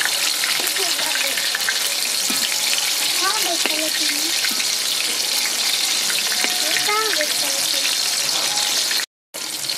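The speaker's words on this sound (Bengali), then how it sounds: "আমি অন্য পিঠটা ফিরিয়ে ভেজে নেবো লাল করে" Capsicums stuffed with egg filling fry in an oiled pan, a loud, close, continuous sizzle with stirring clatter, under a voice speaking intermittently, cutting out briefly near the end.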